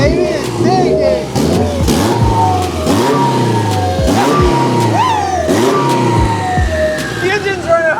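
A four-cylinder engine fitted in a Ford Mustang runs and revs repeatedly, loud and close, rising and falling in pitch with each blip of the throttle while people talk and shout over it.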